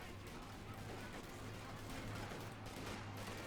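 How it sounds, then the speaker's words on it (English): A German half-track's front-mounted machine gun and submachine guns firing in the Company of Heroes 2 strategy game, distant continuous rattling bursts over a steady low battle rumble, fairly faint, no voices. "opening up with flamethrower submachine guns and of course the machine gun mounted in the front"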